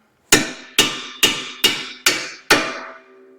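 A hammer taps out the strut knuckle bolt on a 2011-15 Ford Explorer or Edge during strut replacement: six sharp, ringing metallic blows, close and evenly spaced, each with a short decay, and no voices.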